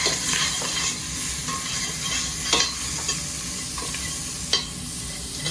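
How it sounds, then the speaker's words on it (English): Curry leaves, green chili and ginger sizzle in a hot buttered pan while a spoon stirs them, steady frying hiss with a few sharper scrapes and clacks of the utensil against the pan, fairly close. "I'm going to add a little bit of green chili, some ginger, and let's give this a mix."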